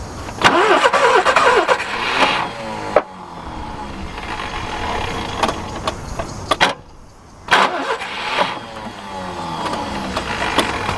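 A Subaru Brumby ute with electronic ignition cranks over and catches, its engine firing up loudly and close, with a couple of restarts and brief revs before settling into a rough idle.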